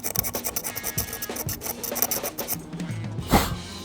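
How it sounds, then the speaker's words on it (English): An X-Acto knife blade scraping paint overspray off a skate deck: close, rhythmic short rasping strokes repeating for several seconds, with a slightly louder final scrape. "use your X-Acto knife as an eraser"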